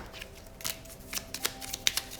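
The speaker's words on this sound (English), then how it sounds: "One last shuffle." A deck of tarot cards being shuffled by hand during a card reading, a string of quick riffling bursts with sharp flicks, close and fairly quiet, no talking.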